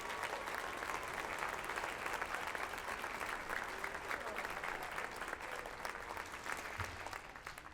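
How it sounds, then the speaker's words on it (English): Steady applause from a large audience fills a university commencement ceremony at the Boise Center, dense and even throughout, easing slightly at the end. "Let's give them a big round of applause."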